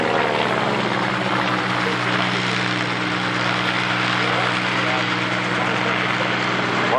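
A propeller-driven biplane flies past at the North Weald Airshow, a loud, continuous engine drone that holds steady throughout, with a commentator's voice over it.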